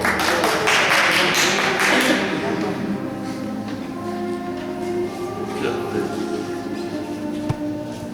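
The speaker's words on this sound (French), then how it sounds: "Nous exprimons notre joie en les applaudissant" A church congregation applauds newly baptized adults, children and babies at an Easter mass, a dense burst of clapping that swells at first and then thins into a lingering reverberant hum.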